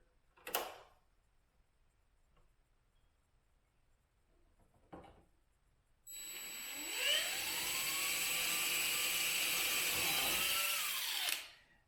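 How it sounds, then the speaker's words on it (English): A couple of sharp clicks, then a power drill whirs loudly for about six seconds, match drilling holes in an oil door on a Van's RV-7 aircraft, its pitch dipping and rising as it bites, before stopping abruptly. "Match drill it."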